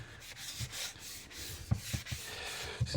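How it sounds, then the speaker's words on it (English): Sandpaper rubbed by a gloved hand over the rim of a worn old steering wheel, a close, steady rasping in repeated back-and-forth strokes with a few firmer scuffs, no voices. "a bit more of a sand."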